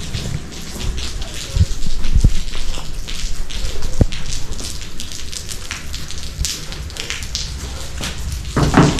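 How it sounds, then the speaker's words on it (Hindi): Steady rainfall patters on surfaces nearby, with occasional sharper drips and taps standing out from the continuous hiss. "अब तो बारिश हो गई"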